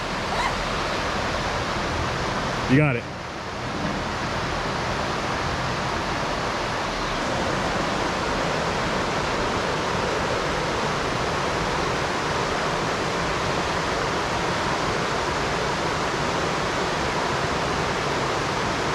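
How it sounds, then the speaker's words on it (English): A mountain river rushes beside a trekking trail in Langtang National Park, Nepal: a steady, dense roar of water, close and loud throughout, with a short voice heard briefly near the start. "you could easily fall into this river here"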